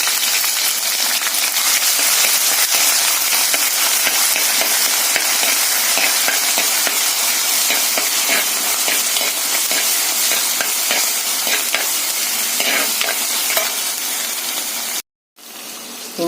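Ginger, garlic and green peppercorn paste fries in a pan for a yam flower roast, a loud, dense hissing sizzle with scattered stirring clinks that runs steadily, then cuts off abruptly near the end.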